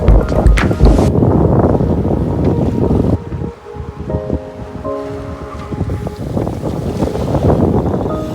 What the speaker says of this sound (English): Motoring into Banderas Bay.